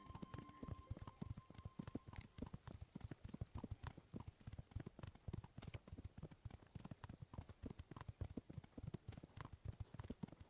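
Horse hooves clip-clop steadily in the medieval video game Kingdom Come, a quick, even rhythm of soft thuds that continues throughout at a quiet level.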